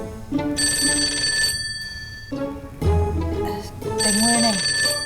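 A telephone rings loudly in a home, sounding in repeated bursts of bright electronic trills with short pauses between them, while people's voices come in during the gaps.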